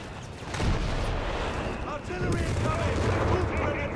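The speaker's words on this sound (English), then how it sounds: "Artillery being unleashed." Artillery fire in Company of Heroes 3 rumbles in heavy booms and rolling explosions amid scattered gunfire, loud and continuous, with a voice talking over the battle noise.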